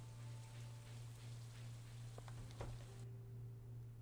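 Rain falls steadily in a farming video game, a soft continuous patter with a low background hum and a few faint clicks.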